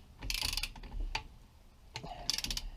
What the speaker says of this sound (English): I haven't got this torque wrench set up like a torque wrench, it's just set up like a socket